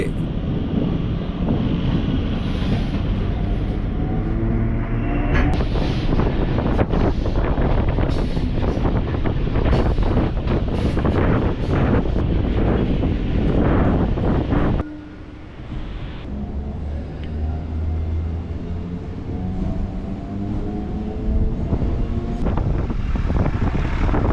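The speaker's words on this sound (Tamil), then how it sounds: "சேப்பாக்கத்துலேருந்தும் இப்போது ட்ரெயின் ஸ்டார்ட் ஆகிடுச்சு" Chennai suburban MRTS train pulling away from Chepauk station, a loud, steady rumble of wheels and motors with wind rushing past, running continuously and dipping briefly partway before carrying on.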